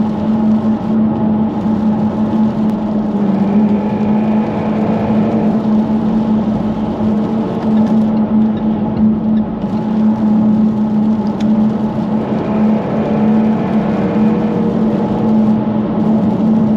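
Jaguar F-Type R P550 AWD with a supercharged 5-litre engine, its exhaust a loud, steady cruising drone with a strong low hum throughout, heard from inside the car with no talking.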